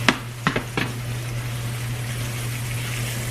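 Pork chops browning in a hot skillet give a steady, even sizzle throughout, with a few brief clatters near the start over a low constant hum.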